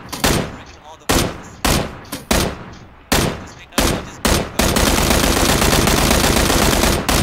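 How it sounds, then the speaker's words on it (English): Staged, fake gunfire rings out in about eight loud, separate sharp shots with short pauses between them, then gives way to a sustained harsh roar of rapid fire. "Fake shots, okay?"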